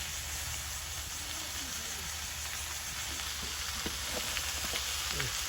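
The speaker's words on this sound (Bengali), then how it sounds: "ইসা মাছগুলো ভাজা ভাজা করি" Small isha shrimp frying in a pan in a village kitchen, a soft steady sizzle with occasional light crackles and faint stirring over a low background hum.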